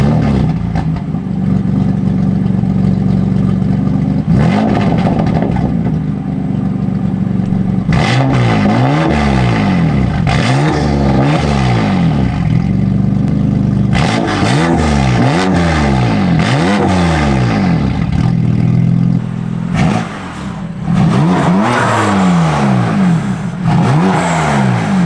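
A BMW M4 with a VRSF full exhaust and downpipes is revved repeatedly from idle, loud and close, each rev rising and falling in quick repeated bursts with brief idle pauses between.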